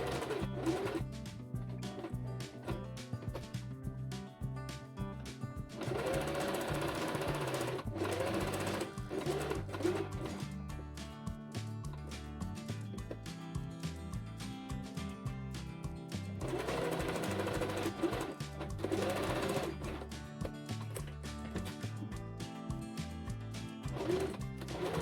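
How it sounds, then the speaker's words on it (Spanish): A sewing machine runs a straight stitch along fabric for a sewn bag, its steady close mechanical whirr holding throughout with slight swells in speed and no talk. "Pasa a la máquina de coser y cose a 1 centímetro del borde, con puntada recta y ancho de 3."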